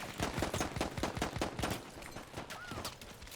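Rapid automatic gunfire from the video game Battlefield 1 crackles in quick bursts of sharp shots, fairly faint and somewhat distant, thinning out toward the end.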